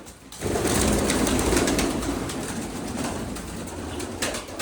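Pigeons coo softly amid a dense, rustling background hum, the low calls blending into continuous noise nearby.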